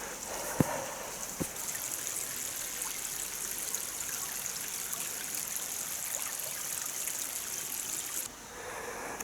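A woodland stream flows along a country lane in Denbighshire, North Wales, a steady close trickle and rush of water with a couple of sharp knocks early on, fading slightly at the end.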